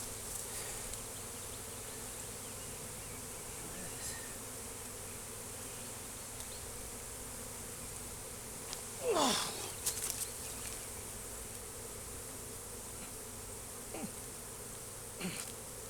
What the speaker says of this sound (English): Yeah, I got some bees.